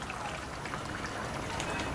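Ground cashew and almond paste thinned with water is poured into simmering masala for chicken korma, a soft continuous wet pouring and sizzling hiss, close and steady, without talk.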